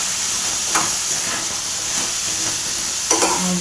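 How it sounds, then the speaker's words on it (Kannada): A tomato fries in a pan with a steady, close hiss and sizzle, and a couple of brief stirring scrapes near the start and end, heard alone without speech. "ಒಂದು ಕಾಯಿ ಟೊಮೊಟೊ ಹಾಕ್ಕೊಂಡಿದ್ದೀನಿ. ಈ ಥರ ಚೆನ್ನಾಗಿ ಇದನ್ನು ಸ್ವಲ್ಪ ಫ್ರೈ ಮಾಡ್ಕೋಬೇಕು."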